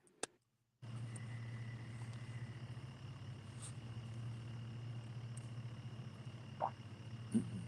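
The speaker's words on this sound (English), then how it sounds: "I can hear the frogs, and it sounds good." Frogs croak steadily on an evening beside the Mississippi River, a constant low chorus under faint distant traffic hum, broken by a few brief louder calls nearby and no talking.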